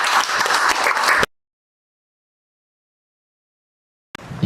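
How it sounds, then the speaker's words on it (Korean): An audience at an online seminar on ESG enforcement applauds a lawyer being introduced, a dense burst of clapping for about a second that cuts off into silence, then a brief return of sound. "차동원 변호사님을 큰 박수로 맞이해 주시기 바랍니다"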